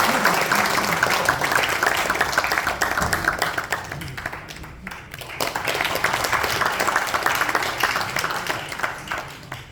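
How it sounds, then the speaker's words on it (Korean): Warm applause from a lecture audience welcoming a speaker to the stage, dense steady clapping that holds for several seconds and thins slightly toward the end. "태영호 의원님 나오실 때 함께 뜨거운 박수로 맞이하겠습니다"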